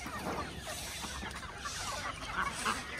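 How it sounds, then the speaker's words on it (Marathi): Free-range village chickens on a country poultry farm in Maharashtra, soft scattered clucks from several hens at moderate distance over a quiet outdoor background. "मस्त कोंबड्या."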